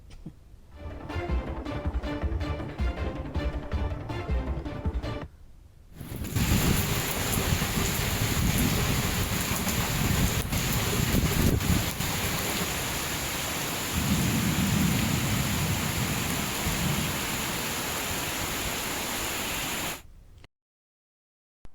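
Heavy rain with rolling thunder over Vijayawada during a storm, a loud, steady downpour hissing on surfaces with deep rumbles swelling and fading, after a brief quieter opening; no talking.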